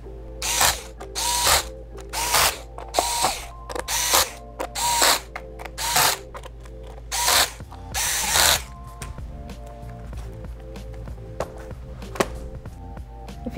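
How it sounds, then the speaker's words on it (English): Screws being tightened into the bottom cover of a Dell Chromebook 11 3110 during a battery replacement, heard as a series of close, loud ratcheting bursts with short pauses, then quieter steady clicking. "And now just tighten the screws in the bottom cover."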